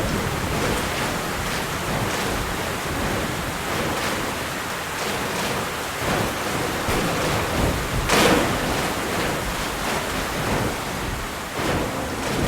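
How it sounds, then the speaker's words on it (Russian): A storm in the Metro Last Light Redux game, around Red Square, sends heavy rain pouring steadily while low thunder rumbles and one sharper crack breaks through midway, all loud and continuous with no speech. "Сейчас снова будет буря."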